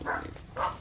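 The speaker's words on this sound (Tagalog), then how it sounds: "Dami palang aso din eh" Two or three muffled dog barks come a moment apart, fairly close but soft, with faint background noise and no talking.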